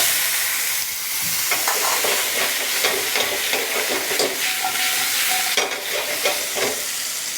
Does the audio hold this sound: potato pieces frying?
yes